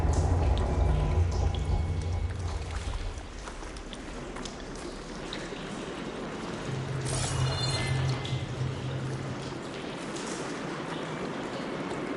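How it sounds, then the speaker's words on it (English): Water leaking and dripping inside an indoor area in Horizon Forbidden West, a continuous splashing trickle with scattered drips and a low rushing undertone, heard alone. "The leak is back."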